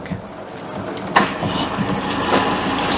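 Faucet in a Class C motorhome running and dribbling pink antifreeze into the sink during winterizing, a steady close watery trickle and gush with faint background sounds.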